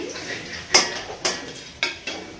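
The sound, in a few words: lifting fried potatoes out of the pan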